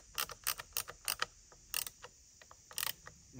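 Chain tensioner on a Ripsaw 500i chainsaw mill being tightened, a close run of sharp metallic clicks and ratcheting ticks in irregular bursts with brief gaps and no talking.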